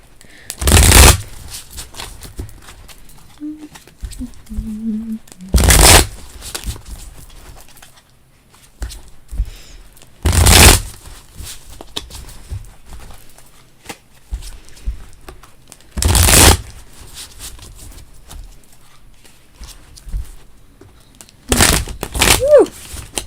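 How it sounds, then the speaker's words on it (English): Tarot cards are shuffled in sharp, crisp riffles about every five seconds, with quieter handling and faint sounds between them. "That was just a bad shuffle."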